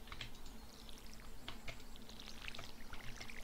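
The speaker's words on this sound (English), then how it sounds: "I'm supposed to be watering this stuff" Crops are watered in the Stardew Valley farming game with a soft, splashy pouring patter, repeated in quick bursts, faint and alone amid light clicking.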